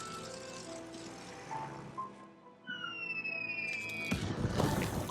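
A bomber aircraft bombing run in Civilization VII, with whistling descending tones over droning engine noise, ending in a loud impact burst.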